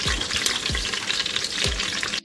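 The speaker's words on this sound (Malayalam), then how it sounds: "അടുത്തതായി പട്ട, പെരുംജീരകം, ഏലക്ക ഇത് നെയ്യിലേക്ക് ഇടും" Cinnamon, fennel and cardamom dropped into hot ghee for a chicken biryani in a clay pot, giving a close, dense, crackling sizzle with a few soft thuds as the spices land.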